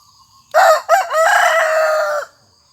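A Burmese-breed fighting rooster kept as a breeding cock crows loudly and close by, with two sharp opening notes and then a long sustained call that breaks off abruptly, against a quiet farmyard background.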